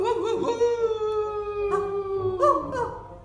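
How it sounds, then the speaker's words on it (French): A wolf howls in long, sustained, wavering tones, one drawn-out howl rising and falling with a second voice joining later, fairly close and loud in a quiet outdoor setting. "C'était un loup."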